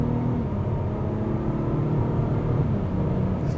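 An Acura TLX Type S pulls smoothly up to speed on a backroad, a steady low engine drone and road rumble heard from inside the cabin, even and continuous with no talk.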